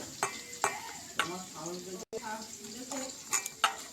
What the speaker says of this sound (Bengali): অল্প অল্প করে জল ঢেলে ব্যাটারটা মিক্সড করে দিতে হবে।